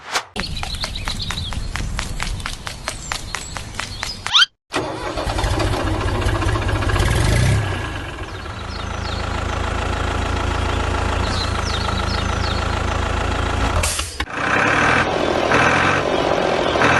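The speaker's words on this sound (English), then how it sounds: "Oh, tractor." A tractor engine cranks with rapid clicking, then catches and idles loudly and steadily up close.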